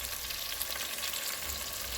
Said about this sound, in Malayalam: അങ്ങനെ ഇത് ഒന്ന് എണ്ണയിലൊന്ന് വരട്ടെ, ഒന്ന് ഇളക്കി കൊടുക്കുക.